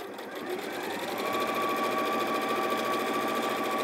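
An Elna 780+ sewing machine runs steadily while stitching across the folded hem of a cushion cover, a continuous close whirring hum that holds an even pitch throughout.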